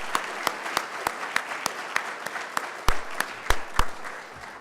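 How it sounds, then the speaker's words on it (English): Audience applause at a city State of the City address, a crowd clapping steadily with sharp individual claps standing out, fairly close and without talk. "Let's give them a round of applause."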